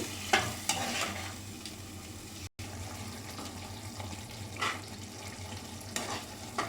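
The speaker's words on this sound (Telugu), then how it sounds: "ఆయిల్ బయటకు వచ్చే వరకు టొమాటోస్ని ఫ్రై చేసుకోవాలి." Tomatoes fry in oil in a pan while being stirred, a soft steady sizzle broken by scraping stirs and brief louder bursts, with one short dropout, no voices.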